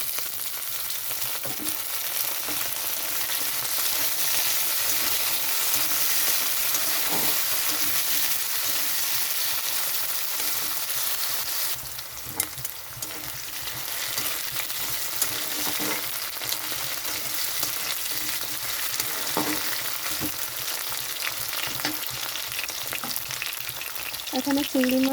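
Potatoes fry in mustard oil in a wok with onion and green chilli, a loud, continuous close sizzle broken by occasional stirring scrapes, going on steadily with no talk.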